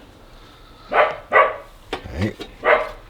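A dog barks several times nearby at a delivery driver in short, separate woofs, and a person briefly speaks between them.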